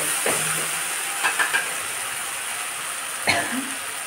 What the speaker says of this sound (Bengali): মশলাটা কষানো হচ্ছে